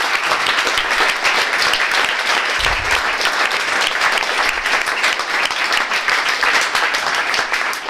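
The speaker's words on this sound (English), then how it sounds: "You should give yourselves a round of applause." Sustained, dense applause from an audience fills the room at a NASA Space Apps hackathon prize and awards ceremony in New York, steady and loud throughout with no talking over it.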